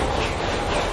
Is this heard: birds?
no